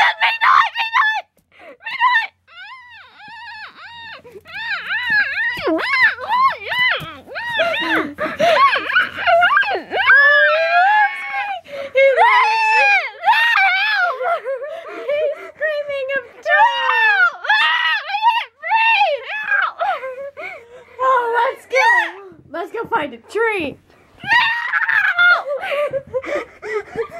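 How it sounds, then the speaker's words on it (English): A character in the Webkinz video game screams with joy after a wedding, giving a long run of shrill, warbling, cartoonish squeals and cackles that rise and fall loudly for nearly half a minute, with brief gaps between bursts. "Screaming of joy because he got married."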